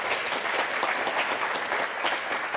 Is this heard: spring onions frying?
no